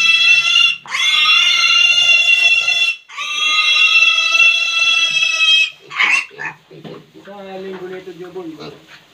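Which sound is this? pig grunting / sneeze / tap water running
pig grunting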